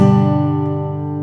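A happy-sounding chord is struck once as a music example, loud at first and then ringing steadily as it fades, with no speech.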